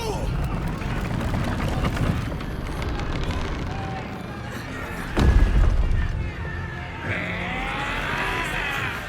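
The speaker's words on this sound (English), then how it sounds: "Cannon!" A deep, booming cannon blast in Baldur's Gate 3 lands mid-scene amid battle noise and shouting voices, followed by a whooshing, crackling rush.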